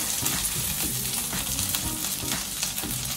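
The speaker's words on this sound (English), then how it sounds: "as long as you have a beautiful sear on your scallop like this, you're good to take it out" Scallops sear in a hot pan, a loud, steady sizzle and crackle that runs close and unbroken with no talking.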